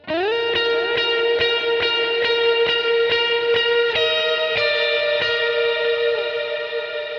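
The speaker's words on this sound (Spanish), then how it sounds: "Obviamente ya cuando le agregamos una reverb, pues suena mucho mejor." Guitar played through a TC Electronic Flashback x4 delay pedal with reverb added, a steady rhythmic strum of sustained notes washing into echoing repeats, loud and alone.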